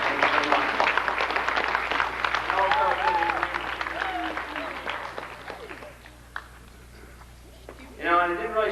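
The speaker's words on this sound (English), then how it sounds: "give a round of applause to Stu Storm and Lisa for organizing that all" Applause at a 1993/94 high school fall sports awards event for varsity football, clapping mixed with crowd chatter and voices that thins out midway, followed by a lone speaker resuming.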